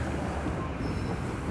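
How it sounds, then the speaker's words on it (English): A subway train rolls steadily into a service platform on a closed Toronto line, giving a continuous, fairly loud rumble of wheels on rail with no voices over it. "I've never seen a train enter the service platform"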